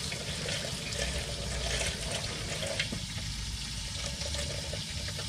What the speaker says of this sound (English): I've got a bunch of cilantro. I'm going to rinse that off real quick.